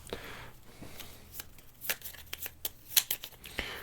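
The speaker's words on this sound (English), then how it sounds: "I need to shuffle these as well." A deck of board game cards is shuffled up close, giving quick papery riffles and snaps in short bursts over about four seconds, with no talking.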